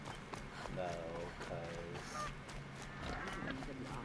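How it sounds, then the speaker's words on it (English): Geese honk in the game Horizon Zero Dawn, several short nasal calls scattered over a low ambient bed, with a voice talking over them. "There are geese."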